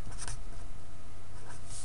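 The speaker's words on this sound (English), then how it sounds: "So I'll just write that down again." Pen scratching across paper while writing out a maths inequality by hand, a steady close scratchy texture with brief stronger strokes near the start and end, heard alone over low background hum.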